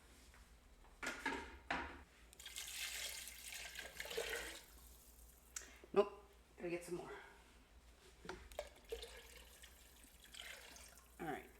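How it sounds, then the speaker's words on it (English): Tap water runs steadily into a container for a couple of seconds, with a person talking briefly over and around the flow and some kitchen clatter. "I gotta fill this with water."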